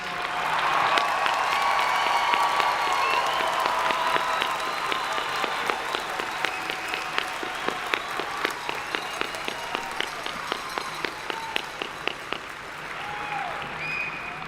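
A large crowd at a university commencement applauds the 2021 graduates, a thick wash of clapping in which one close pair of hands beats a steady, even rhythm through the middle before the sound thins out.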